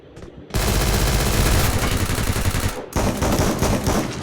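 Gunfire from the player's gun in a video game: loud, dense bursts of rapid automatic shots, one long burst followed by a brief pause and then another close, continuous volley.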